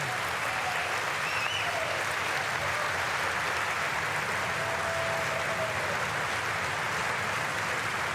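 Sustained applause fills a large chamber during the 2019 State of the Union address, a dense, steady roar of many hands clapping together that holds at an even level throughout.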